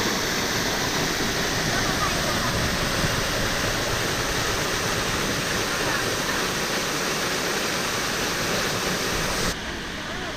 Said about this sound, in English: it's a little mini waterfall.